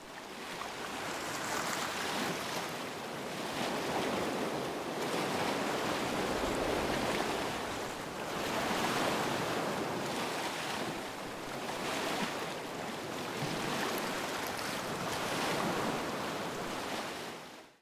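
Ocean waves break on the shore in the video game Nightingale, rolling in slow swells every few seconds over a constant wash of surf and water ambience, with no voices.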